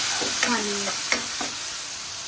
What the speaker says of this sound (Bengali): মশলা একটু ভাজা ভাজা হয়ে গেলে দিলাই পেঁয়াজ